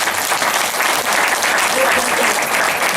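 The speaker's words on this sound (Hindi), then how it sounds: "ताली ताली भी होना चाहिए।" A meeting crowd breaks into steady applause, dense clapping at close range throughout, with some voices mixed in.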